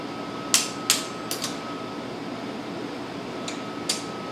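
Sharp ratcheting clicks from a torque wrench tightening bolts on an LQ9 LS engine to 22 foot-pounds, heard as two close pairs of clicks followed by two quieter single clicks over a steady fan-like hum.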